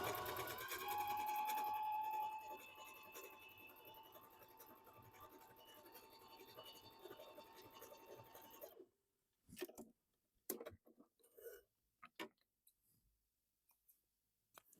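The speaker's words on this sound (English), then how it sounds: "This is this pretty honeycomb stitch." A Bernina sewing machine works a decorative honeycomb stitch with a continuous mechanical whir and rhythmic ticking. It stops after about nine seconds, leaving scattered faint clicks and handling noises.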